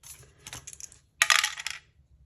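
Small dice rattle and clatter across a surface in two short bursts, a brief soft tumble followed by a louder, sharper roll after a pause, close and clear with no talking.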